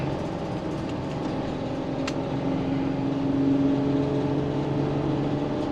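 A 2016 Winnebago Touring Coach ERA 170X Mercedes Sprinter camper van drives uphill with a smooth, steady engine hum and road drone from inside the cab, rising slightly midway, with no talk.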